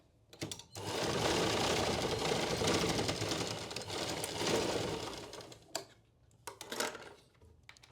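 A sewing machine runs steadily for several seconds while stitching a sleeve onto a blouse, a close rapid whirring rattle that stops, followed by a few short clicks and taps.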